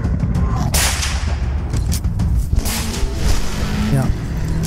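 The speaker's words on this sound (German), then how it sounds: "Sehr clever, Schüsse offscreen." Several sharp offscreen gunshot-like bangs from a Jurassic World short film crack out amid a dense, noisy background with a voice underneath.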